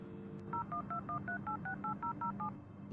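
Touch-tone keypad beeps from a phone inside the VR game Interior Worlds VR, about a dozen short dual-tone presses in a quick, even sequence over a quiet background hum.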